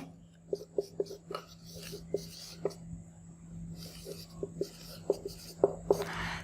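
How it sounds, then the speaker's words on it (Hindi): Writing on a board during a lesson on half-life, a series of close taps and short scratchy strokes in uneven rhythm beneath soft low talk and a steady hum. "मैं यहाँ पे लिखता चलूँ"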